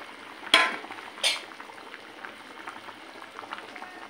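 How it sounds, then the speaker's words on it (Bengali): A pot of gourd curry for tilapia fish bubbles softly at a boil, a faint steady simmer with a couple of sharp utensil clinks near the start. "বলক এসে গেছে"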